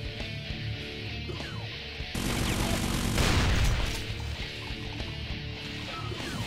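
Frantic gunfire in the Brutal Doom V19 video game, with a burst of heavy shots and booms swelling in the middle over a continuous game soundscape, fairly faint overall.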